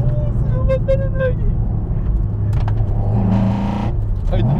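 A SARD 86 GT1 fitted with four individual throttles runs close by, its engine a steady low drone with a brief rising rev toward the end, while people talk excitedly over it.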